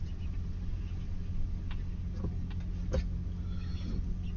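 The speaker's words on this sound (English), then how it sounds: "there's the truck." A truck drives past during a winter snowstorm, giving a steady low engine rumble at moderate distance with a few faint clunks, and no voices.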